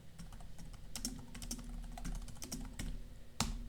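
Keys clacking on a computer keyboard as a sudo apt command is typed in Ubuntu, close, quick irregular taps with a louder final keystroke.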